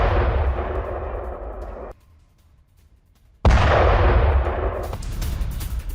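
Explosions during an attack on Tehran: deep, heavy booming blasts, loud and rumbling for about two seconds, a brief silent gap, then another powerful sustained blast with rough low roar.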